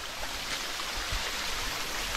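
Waterfall in the Srisailam forest, a steady, even rush of flowing water that holds constant without pauses or voices.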